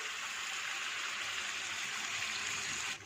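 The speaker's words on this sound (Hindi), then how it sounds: "पानी तकरीबन 700 ml इसके अंदर गया है" About 700 ml of water pours into a pot of aloo gosht, a steady, rushing gush that runs evenly for several seconds before stopping abruptly.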